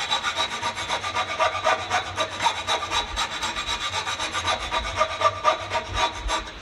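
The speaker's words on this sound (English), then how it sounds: "just keep sawing away on these lines." A hand saw cuts through Sapele wood in quick, regular back-and-forth strokes, close and rhythmic throughout, with no voices.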